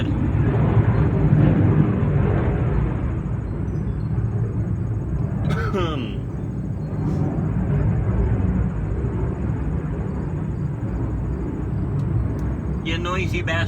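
A low, continuous roar of an airplane overhead fills the background, holding steady with slight swells, while a brief voice cuts in partway through.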